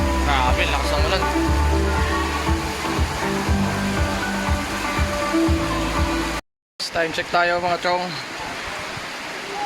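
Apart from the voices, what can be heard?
heavy rain on a covered court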